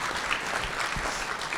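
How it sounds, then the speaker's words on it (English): Audience applause after a talk on mental health crises, a steady, fairly quiet wash of clapping that runs through the whole short stretch with no voices over it. "Give her a round of applause"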